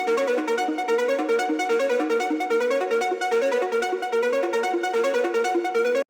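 Two layered synth plucks from a trap beat play together in a dense, fast, steady melodic pattern of short bright notes, full and continuous without any voice.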